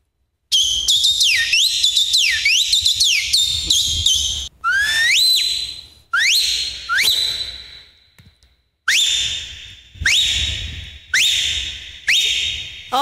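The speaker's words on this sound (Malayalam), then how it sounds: "അപ്പം പത്ത് ഫിംഗർ, ഓരോ ഫിംഗർ വെച്ചിട്ട് ഓരോ വിസിൽ ചെയ്യും അല്ലേ?" Loud, shrill finger whistling repeated in bursts, with rising and falling swoops followed by a series of sharp, steady whistle blasts, close to the listener and with no talk over it.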